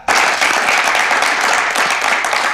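A crowd at a prize ceremony claps loudly and continuously, the applause starting abruptly and staying thick and even throughout.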